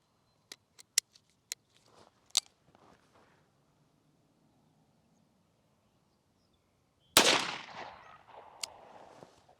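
.38 Special revolver firing outdoors, one loud sharp shot with a ringing tail about two-thirds of the way in, preceded by faint scattered clicks and small taps.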